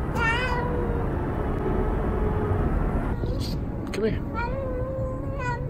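A stray cat in a city neighborhood meows several times, a drawn-out call at the start and more short meows later, close over steady traffic-like background noise while a person speaks briefly.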